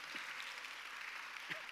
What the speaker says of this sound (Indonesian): Tepuk tangannya jangan tanggung-tanggung.